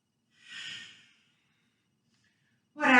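A single soft breath exhaled through the nose during a yoga flow, brief and close, followed by silence and then the start of a spoken word.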